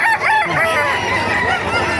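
Several roosters crow over a steady background of clucking chickens at a poultry market in Baliuag, Philippines, loud and close, with calls overlapping one another.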